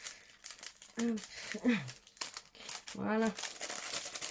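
Paper package wrapping being torn and crinkled open during an unboxing, with close rustling and ripping bursts while a person talks over it.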